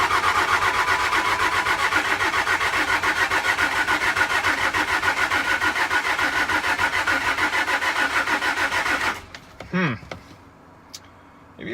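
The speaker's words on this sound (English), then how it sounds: "Got a good crank, but no start" A car's starter cranks the engine steadily and rapidly for about nine seconds without it catching, then cuts off, leaving brief clunks and a faint voice; the car has a suspected fuel problem at a dealer auction of broken and crashed vehicles.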